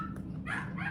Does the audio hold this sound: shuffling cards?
no